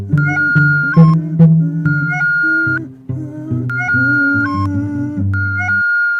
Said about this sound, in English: The children play Twinkle Twinkle Little Star together on their recorders.